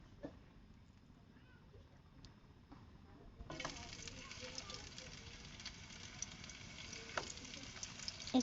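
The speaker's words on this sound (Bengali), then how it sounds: "এরপরে আমি একে একে আমার লাউটা ভেজে নিব।" Bottle gourd pieces coated in cornflour dropped into hot oil in a wok, a quiet background hiss that jumps into a steady, brighter crackling sizzle partway through.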